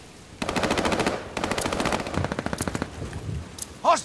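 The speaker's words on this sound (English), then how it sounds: "Hostiles are strafing us!" Video game machine-gun strafing fire rattles in loud, rapid sustained bursts, two long volleys followed by a slower, choppier string of shots, ending in a short tonal game sound.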